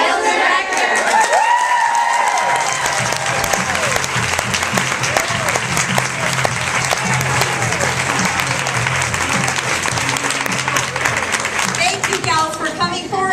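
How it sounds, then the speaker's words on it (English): Sustained audience applause fills a room at a Mary Kay independent sales director debut event, steady dense clapping with some crowd noise, a voice speaking over it throughout and a few cheers near the end. "Keep the applause rolling."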